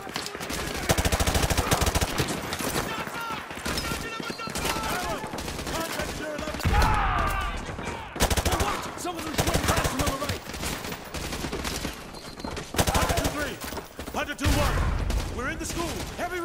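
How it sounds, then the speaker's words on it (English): Heavy gunfire in Call of Duty Modern Warfare 2 (remastered campaign), sustained loud bursts of automatic rifle and machine-gun fire with overlapping shots, mixed with radio chatter and voices. "We are taking heavy fire from the school."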